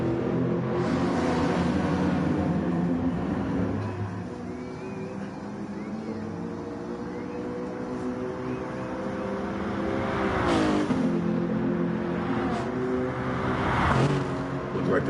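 A Lexus RC F race car in Gran Turismo Sport, running an FIA race, drones at sustained high revs with rising and falling engine pitch through gear shifts and corners, while other cars' engines are heard nearby.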